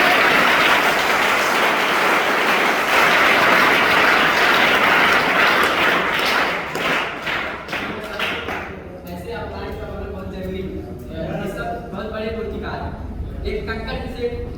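Audience applause welcoming a guest at an event in India, a loud dense burst of clapping that fades after about six seconds, after which someone talks over a quieter background.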